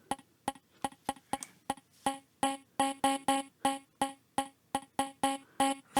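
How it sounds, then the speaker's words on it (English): Short, plucky vocal chops sampled from an acapella, with shortened decay and low sustain, firing as clipped, tonal stabs in an irregular rhythmic pattern, growing denser and louder, with no speech. "And that way we get more of a pluck sound."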